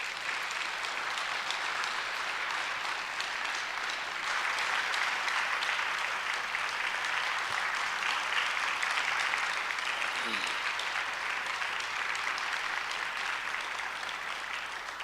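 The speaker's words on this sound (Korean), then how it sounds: "우리 박정호 목사님 나오실 때 우리 박수로 따뜻하게 환영하겠습니다." Steady congregational applause fills a church hall at a Wednesday worship service as the pastor comes forward, a dense, even wash of clapping that holds for about fifteen seconds without pause.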